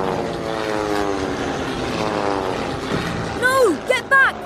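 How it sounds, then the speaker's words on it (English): Engines of a German Luftwaffe squadron of propeller planes drone steadily with a low, layered roar, joined near the end by a few sharp rising-and-falling whines. "From the other side of the hill comes the distant roar of engines, quiet at first but growing louder."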